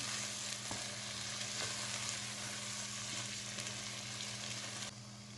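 Palak chicken with a spoonful of kasuri methi sizzles steadily in a hot pan while being stirred. Loud, even frying hiss with occasional scraping strokes, easing slightly at the very end.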